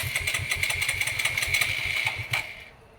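A motorcycle engine runs with a rapid, even putter, its pulses steady for over two seconds before the sound drops away and fades near the end.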